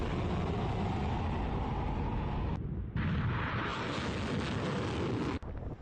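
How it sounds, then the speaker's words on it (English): A ballistic missile launch roars as a loud, sustained rumbling blast with wind-like buffeting, briefly cut off midway, then resumes at full strength with no voices. "They're showing themselves launching ballistic missiles"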